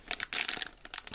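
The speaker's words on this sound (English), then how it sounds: "now I'm going to open one with Rarity on the package" My Little Pony blind bag plastic packaging crinkles and tears in quick, close-up bursts, rustling loudly for about a second.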